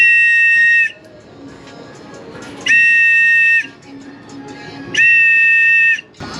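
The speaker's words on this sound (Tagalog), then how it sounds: "May pito tayo dito." A whistle gives three loud, shrill, steady blasts, each lasting about a second, set apart by quieter gaps of background noise at a pigeon loft.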